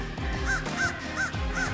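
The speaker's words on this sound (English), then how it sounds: "When you're using electronic crow call" An electronic crow call used while crow hunting plays a run of four evenly spaced, loud caws over a rough, noisy background.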